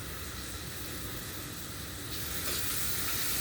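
Jalapenos and onions hit a pan of butter and flour, giving a loud, dense, steady sizzle that hisses continuously up close and swells slightly near the end, with no voices.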